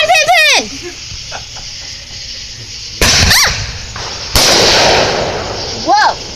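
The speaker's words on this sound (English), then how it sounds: "That's the firework." Fireworks being lit and set off outdoors: sharp loud bangs burst at the start, around three seconds and again near four and a half seconds, with whistling, screeching rockets rising and falling, and people heard between the blasts.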